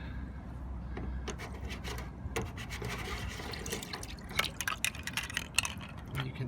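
Water drains and drips from the filter of an Indesit IWDE7145 washing machine, a faint trickle with scattered splashes and small rubbing knocks, close and quiet.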